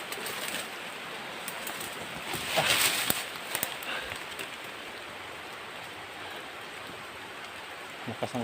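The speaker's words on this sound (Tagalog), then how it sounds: "Lakas ng ulan guys." Steady rain hissing across the whole scene, a dense wash of drops with a brief louder burst partway through and no voices.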